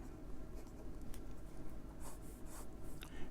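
A 1964 Parker 45 Flighter fountain pen with an extra fine 14 karat gold nib moves across paper in a soft, close, continuous scratch with faint rhythmic strokes, heard alone and quietly.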